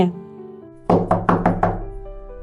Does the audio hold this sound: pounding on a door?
yes